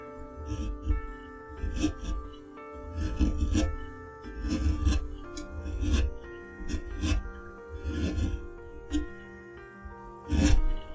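A carving knife shaves and rasps across wood, the close strokes coming in short repeated bursts with brief pauses, set against a steady background hum.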